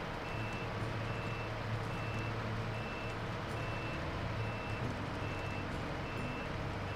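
Steady, evenly spaced reversing beeps from a truck backing up a trailer in SnowRunner, sounding over a constant low engine rumble for the whole stretch.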